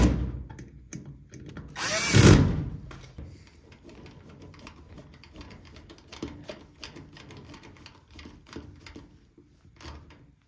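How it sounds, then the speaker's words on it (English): Power driver tightening terminal screws on the terminal block of a GE stackable washer/dryer combo, a loud burst of motor whine near the start followed by scattered clicks, taps and handling knocks. "Now I can apply some good torque to these terminal screws on the block."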